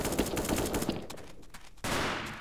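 Gunfire from a newly picked-up weapon in a mobile first-person shooter game, a rapid burst of automatic shots, close and loud, then a brief lull before another blast of sound.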